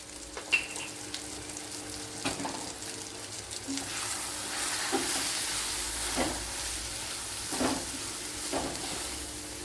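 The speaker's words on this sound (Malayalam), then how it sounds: "ഇനി പൊടിയായിട്ട് ഞങ്ങൾ നല്ലപോലെ ഒന്ന് മൂപ്പിച്ചെടുക്കണം." Turmeric and asafoetida powders roast in a pan for chilli rasam, giving a soft, continuous frying sizzle broken by occasional stirring knocks. The sizzle grows slightly louder midway, with no talking.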